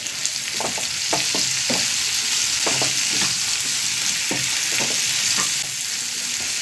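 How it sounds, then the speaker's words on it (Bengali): A spoon stirs salted curry with turmeric in a hot pan, scraping in a steady series of sharp strokes over a constant close sizzle of frying, with no voices. "আর একটু লবণ দিয়ে দিই একটু নেড়ে এটাকে ঢাকা দিয়ে দিই"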